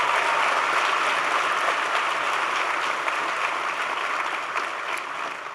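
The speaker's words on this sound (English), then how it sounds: "Give them a big round of applause for their support" Steady, loud applause from an audience of young African leaders at a presidential address, dense and continuous throughout, tapering slightly at the end.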